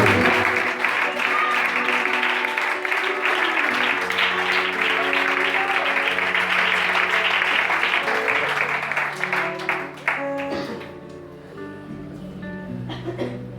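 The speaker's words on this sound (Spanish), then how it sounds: "Fuerte ese aplauso, por favor." A church congregation applauds continuously and loudly over sustained music, the clapping thinning out toward the end as the music carries on.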